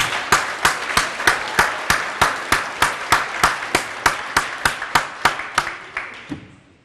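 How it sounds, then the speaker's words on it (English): An audience at an award ceremony gives a round of applause, heard as a steady series of sharp, evenly spaced single claps, about seventeen in a row, moderately loud and fading out at the end. "so we can give them a round of applause"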